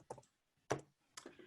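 A few light, quiet taps on a computer keyboard, sparse clicks separated by short pauses, close by with no voices.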